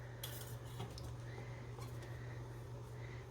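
A knife cuts a cheese quesadilla in half against a plate, giving a few faint scraping and clinking taps over a steady low hum, quiet and close, with no talking.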